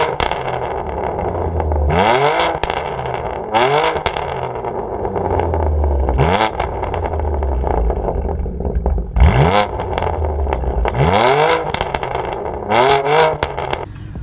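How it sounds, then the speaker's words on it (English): A tuned BMW E92 M3 with an aftermarket exhaust and no resonator revs hard several times, each rise in pitch ending in loud crackles and pops, close and without talk. "this thing is tuned, it has an exhaust, no resonator, crackles like hell"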